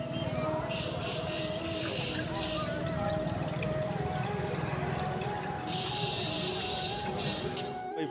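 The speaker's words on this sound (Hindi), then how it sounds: "पानी वानी डाल रहे हैं।" Water poured steadily into the radiator of an Eicher Pro 2114XP truck at a roadside, a continuous gurgling rush with a splashing texture, close and constant throughout.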